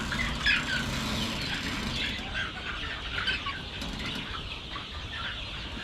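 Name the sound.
chickens flapping wings and clucking on a farm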